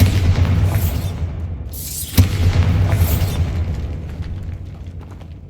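Bombarda spell blasts in Hogwarts Legacy, loud booming explosions with a sharp crack near the middle, each followed by a long rumbling decay and debris-like rattles, no talk.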